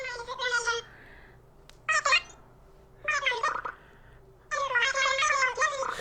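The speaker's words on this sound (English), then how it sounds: "So this is the sound of the creatures" Short, chirpy synthetic creature voices from the newest Animal Crossing game babble in several quick bursts separated by pauses, high and squeaky like cartoonish meowing gibberish.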